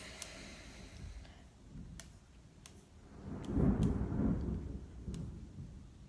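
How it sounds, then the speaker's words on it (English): Thunder rolls in the distance, swelling into a deep rumble midway and fading again, with faint rain and a few scattered clicks. "Ooh, this thunder's crazy."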